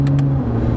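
A 2017 Acura NSX with a 9-speed dual-clutch transmission pulls away under light throttle, its engine holding a steady low drone that drops smoothly in pitch as a near-seamless gear shift occurs partway through, heard up close.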